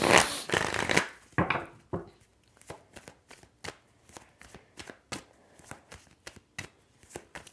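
Tarot cards are shuffled by hand up close, a few loud riffling bursts at first, then a steady run of crisp, evenly spaced slaps and flicks.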